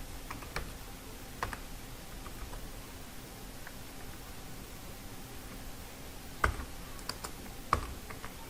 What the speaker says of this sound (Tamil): இப்போ நான் அதை 1 by 1 டைப் பண்ணுறேன்.